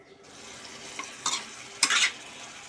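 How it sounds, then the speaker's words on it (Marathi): Ground spice paste sizzling and frying in a pan for a spicy Kolhapuri chana dal curry, with a few sharp scraping strokes of a spoon stirring it, close by. "भाजीमध्ये मी वाटलेला मसाला घातला आहे त्याला आपण चांगलं परतून घेऊया"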